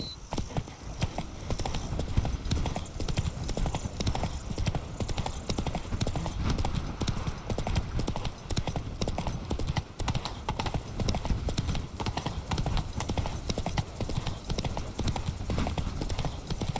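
Roach, the horse in The Witcher 3, gallops hard, its hooves beating a fast, continuous clip-clop that stays loud and close for about seventeen seconds, with no voices over it.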